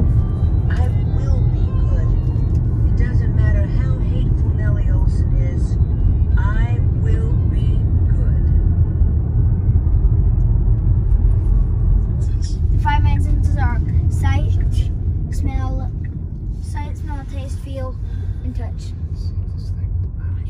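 A Tesla Model Y electric car towing a Casita travel trailer rolls along a road into Grand Teton National Park, a steady low rumble of tires and cabin noise heard under ongoing speech.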